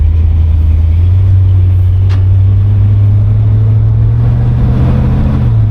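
A 1972 Buick GS coupe's engine drones low and steady from inside the moving car, swelling slightly toward the end as gas is applied, with no talk over it.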